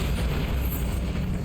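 A Bombarda spell explosion in the Hogwarts Legacy video game, a sustained low rumbling blast with no distinct onset, heavy and steady throughout the short stretch with no talking.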